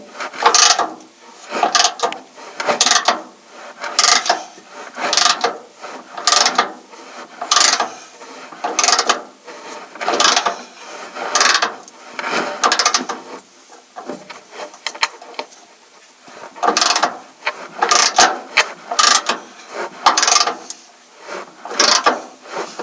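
A ratchet wrench loosening the bed bolts on a Chevy 1500 pickup truck, rapid clicking bursts repeating in rhythmic strokes with short pauses between them, close and clear, no talking.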